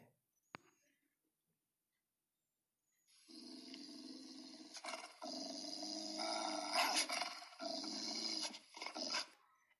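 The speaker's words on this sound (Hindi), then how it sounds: "ये है कुत्ता, हमारे घर की रखवाली करने वाला।" A dog's low growl, played back as a recording, comes in after a few seconds of near silence and continues in rough, rumbling bursts, faint overall.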